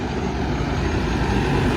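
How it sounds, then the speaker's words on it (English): A John Deere tractor goes by close on the road, its heavy low engine throb loud and steady for a moment, alone without speech. "Yep, it is a John Deere."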